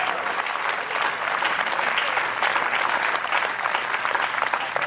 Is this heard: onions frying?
no